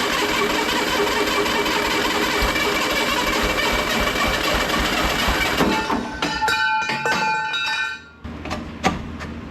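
An old small engine on a 30-inch vertical sawmill, left sitting in a field for over twenty years, chugs loudly and steadily, then stumbles and cuts to uneven sputtering pops and clanks.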